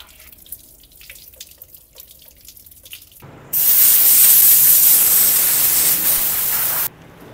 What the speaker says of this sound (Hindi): अब बैटरी को साफ पानी से हमने वॉश करना है।